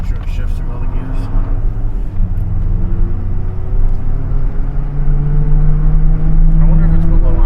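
A Chevy Silverado pickup with newly swapped used rear-end gears, driven while it shifts through its gears, gives a loud steady engine rumble whose drone climbs in pitch as it pulls. It continues without a break, with people talking over it.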